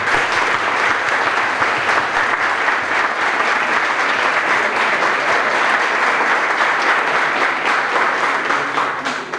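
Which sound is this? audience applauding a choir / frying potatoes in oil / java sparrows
audience applauding a choir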